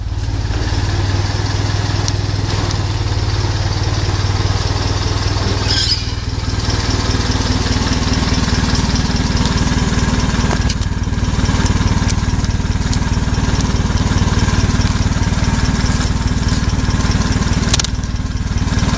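A forklift engine idles and rumbles nearby throughout, steady and throaty, with a constant low drone and occasional mechanical clatter.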